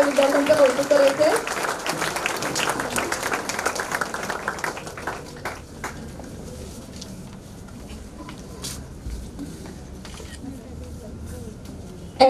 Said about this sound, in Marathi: आपल्याला सर्वांना पुन्हा एकदा मी विनंती करते की जोरदार टाळ्या वाजवून सगळ्या विद्यार्थ्यांचं कौतुक करायचे